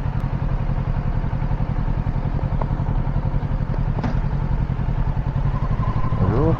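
Scooter engine running while riding, recorded on an Insta360 One RS camera with an external microphone. A steady, throbbing putter stays loud and close, with brief clatter and a rising whine near the end.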